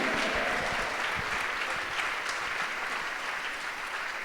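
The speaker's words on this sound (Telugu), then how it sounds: "చప్పట్లు కొడుతూ యేసయ్య నామాన్ని ఘనపరచండి" A church congregation claps in praise at a Christmas Day service, a dense, steady wash of many hands filling the whole clip at even loudness.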